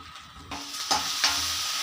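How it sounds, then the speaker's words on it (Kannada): A wet ground paste of cumin and pepper hits hot oil tempering with a sudden loud sizzle, then keeps hissing steadily as it is stirred, close by. "ಮಿಕ್ಸಿಗೆ ಹಾಕ್ಕೊಂಡಿರೋದನ್ನು ಈ ಒಗ್ಗರಣೆಗೆ ಹಾಕ್ತಾಯಿದ್ದೀವಿ."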